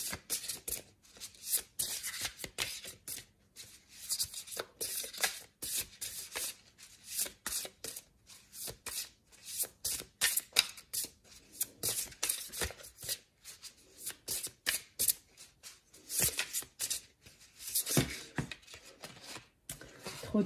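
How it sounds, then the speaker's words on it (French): Tarot cards are shuffled by hand in a long run of quick, papery riffling bursts, close and crisp, repeating nearly continuously. "J'ai du mal aujourd'hui à brasser."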